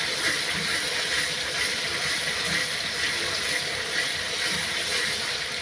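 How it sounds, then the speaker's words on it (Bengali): Spice paste frying in hot oil for a quick pangas fish recipe gives a loud, steady, broad hiss that holds close and unbroken throughout, with no voices. "মশলাটা ভাজা ভাজা করে নিতে হবে।"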